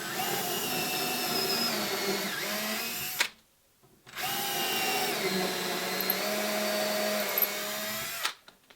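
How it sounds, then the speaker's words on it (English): A power drill bores holes into a wooden thwart riser while building a Catalina Wherry boat, running in two long, steady whining bursts separated by a short pause. "I want to drill nice and square to the riser itself and right in line with the angle of the frame."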